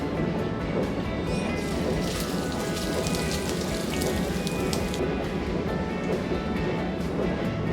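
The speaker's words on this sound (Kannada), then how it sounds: "ಒಗ್ಗರಣೆ ಹಾಕೋತಾ ಇದ್ದೀನಿ." Tempering for ragi dosa sizzling in hot oil, a dense continuous crackle with bright pops, steady and close for the whole stretch.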